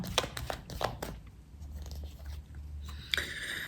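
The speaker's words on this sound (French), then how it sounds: "Je vais recouvrir quelques cartes." Several tarot cards are turned over and laid down, giving a run of close, crisp papery flicks and taps with a low background hum.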